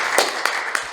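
An audience at an academic conference session applauds to welcome a presenter, a brief burst of dense clapping from many hands with a few sharper individual claps standing out.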